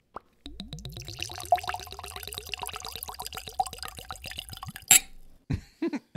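Skellig Irish whiskey glugs out of a small taster bottle in a steady, rapid stream of close liquid plops lasting several seconds, followed by a few brief knocks and rustles.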